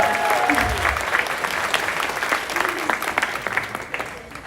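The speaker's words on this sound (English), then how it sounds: "How about a heartfelt round of applause for their collective awesomeness this weekend?" A wedding reception crowd applauds steadily, a dense wash of many hands clapping at moderate loudness, with some voices mixed in early on.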